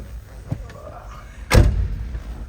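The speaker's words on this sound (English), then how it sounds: "Love the way these old cars sound when you shut the door." A 1971 Pontiac Lemans, a fully restored classic car, has its door shut once from inside the cabin, giving a single solid thump near the middle, with quieter rustling before it.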